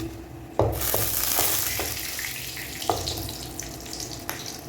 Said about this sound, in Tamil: இது வறுக்கட்டும், மேலே தெரிக்குது